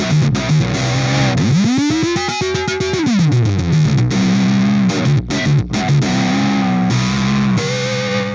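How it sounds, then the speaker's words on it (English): An electric percussion pad, the SlapStick N-100, played through a heavy guitar-style distortion effect, giving gritty, buzzing hits and a sustained distorted tone that bends upward and holds before dropping back, loud and alone. "everyone's favorite, distortion"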